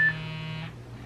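A mobile phone gives a short electronic alert, one steady buzzing tone with a bright high blip at its start, fading within a second.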